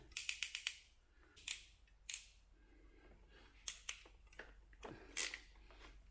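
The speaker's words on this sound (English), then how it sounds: "there's my flash ratchet crimpers. I'll put that on" Ratchet crimpers click sharply and repeatedly while crimping a wire connector for a Range Rover Sport L320 LED fog light and DRL install; a quick burst of close, faint clicks is followed by scattered single snaps, with no speech.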